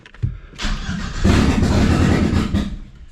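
A 1997 Audi A4 B5 engine, freshly installed, catches and settles into a loud, rough idle close by, its rumble uneven and swelling over a few seconds.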